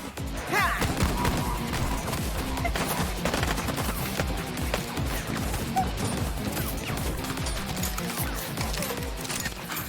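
Gunfire in an animated show, a dense burst of rapid clattering shots and crashing impacts filling the whole stretch at moderate loudness with no talking.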